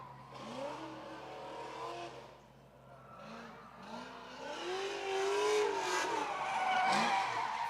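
Drift car at Big Indian Drift Pit, heard from a distance with engine revs rising and falling in repeated sweeps alongside tire noise, moderately faint.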